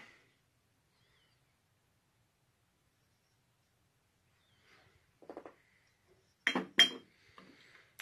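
Dug-up glass medicine bottles clinking together as they are handled, a few faint taps followed by two sharper bright clinks and light rattling after a long quiet stretch.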